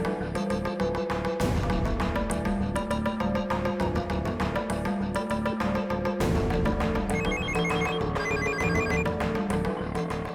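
A telephone ringtone plays continuously while a call is being placed, a loud, repeating melodic tone pattern filling the whole stretch with no talk over it.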